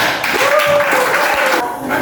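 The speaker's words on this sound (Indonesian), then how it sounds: "Tepuk tangan untuk." Applause from a class audience, a fairly steady patter of clapping for about two seconds with some voices mixed in.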